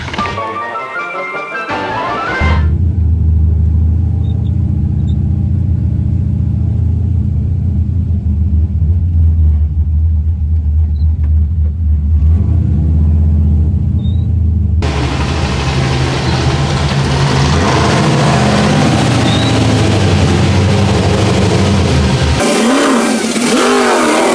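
A Corvette race-build engine rumbles steadily at close range for about twenty seconds, deep and continuous, with faint revving before it cuts off near the end.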